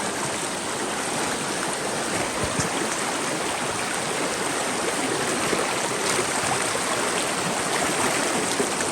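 Steady, loud rush of water pouring through a gold mining sluice box at a fine gold deposit, a constant dense wash with no breaks and no voices.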